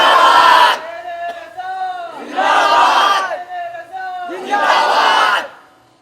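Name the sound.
crowd chanting in response to Naara-e-Takbeer slogan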